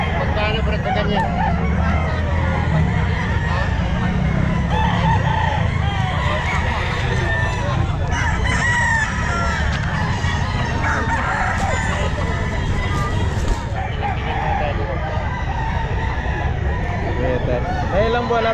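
Sweater gamefowl roosters crow repeatedly at a busy Sunday pet market, loud calls rising over constant crowd chatter, traffic and people talking nearby throughout.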